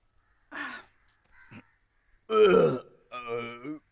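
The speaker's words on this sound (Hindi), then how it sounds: "मेरे डकार की आवाज थी।" A man's loud, drawn-out belches after a meal, several croaking bursts of varying length separated by short pauses, close and prominent.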